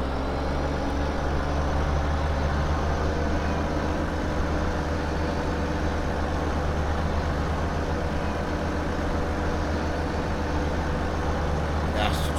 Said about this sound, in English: That's such a nice sound, this tractor.